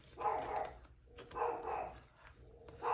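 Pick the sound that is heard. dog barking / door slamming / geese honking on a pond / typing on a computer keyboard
dog barking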